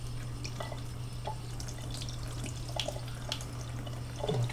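Warm water running from a tap while makeup brushes are rinsed, a soft steady trickle and splash over a low hum, with faint clinks and a brief louder splash at the end.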